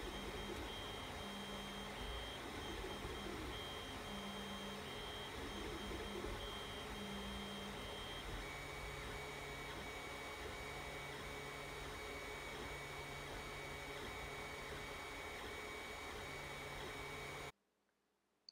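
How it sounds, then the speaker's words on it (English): A 3D printer runs after fixes with a steady motor hum and whir, faint mechanical tones and light whines, continuous and even, before it stops abruptly near the end. "you should get a printer that sounds something like this."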